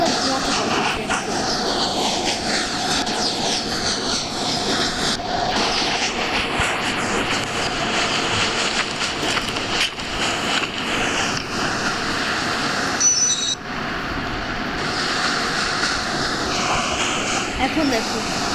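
A train rumbles along in the Indian Bike Driving 3D mobile game, a steady loud mechanical roar with shifting tones and brief dropouts, and a voice talks over it.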